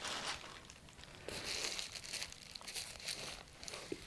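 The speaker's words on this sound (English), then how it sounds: "excuse the rustling." Crinkly plastic bag rustling close by, a steady run of crackles and crumples with a few sharper crunches, and no voices.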